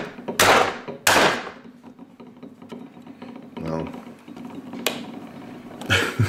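A knuckle knocks against the brittle case of a cheap, broken pocket stove, giving two sharp, close thunks at the start and a few lighter knocks and rattles afterwards.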